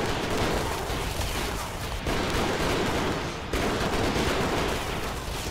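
Artillery fire in Sengoku BASARA 3 roars as a dense, unbroken barrage of booming shots and blasts, loud and continuous with brief dips between salvos and no talk.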